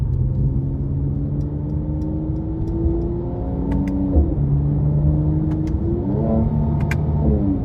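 A 2023 Mercedes-Benz C43 AMG coupe engine revs hard as it accelerates at full throttle in manual mode, its pitch climbing through several gear changes, loud and close with no talking.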